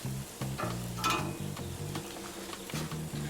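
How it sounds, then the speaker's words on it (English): Mushrooms sizzling and crackling in a hot pan in Jamaica, with a light hiss and occasional stirring clinks, close and fairly quiet. "Oh, little sizzle."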